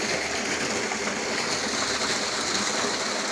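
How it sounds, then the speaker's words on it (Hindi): Water gushes from a running tube well pump in a steady, loud, broadband rush, close and unbroken, with no voices over it. "ये टूबल चल पड़ी है,"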